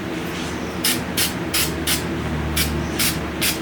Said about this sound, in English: we're gonna spray up this axle and make it look pretty.